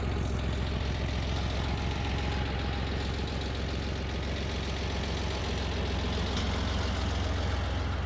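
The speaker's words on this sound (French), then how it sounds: "Donc voilà la bête avec son flat 6 qui chante bien, même à l'arrêt." A Porsche 911 3.2 air-cooled flat-six idles steadily up close, a continuous low rumble with a fine rapid pulsing and no change in pace, heard alone with nothing else in the scene.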